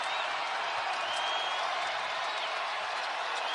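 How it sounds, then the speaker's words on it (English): A basketball arena crowd cheers and applauds for the home team, a steady, dense roar of many voices and clapping that holds at an even level throughout, heard from within the stands. "Crowd's trying to energize the home team."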